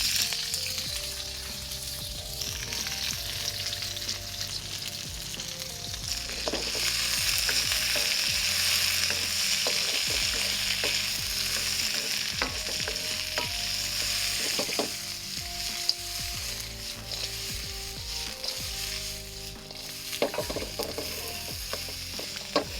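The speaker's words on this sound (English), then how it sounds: "And we start cooking down the vegetables." Vegetables stir-frying in fresh oil in a wok for black pepper chicken lo mein, a dense continuous sizzle broken by frequent clacks and scrapes of a spatula against the pan, with no talking.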